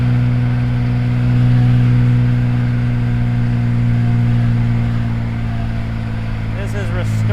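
Engine of a 1970 Jaguar XKE E-Type Roadster pulling steadily under load, a loud sustained low drone with mild swells, heard from the cockpit.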